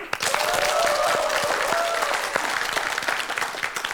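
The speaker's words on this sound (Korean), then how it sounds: "박수 보내주세요." A studio audience on a Korean TV quiz show breaks into strong, sustained applause that fills the room, with a faint tone sounding briefly beneath the clapping.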